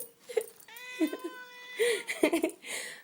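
An attack-trained house cat yowls and meows in drawn-out, rising caterwauls, close and fairly loud, interleaved with short hisses and scuffling, while a person talks and laughs in between.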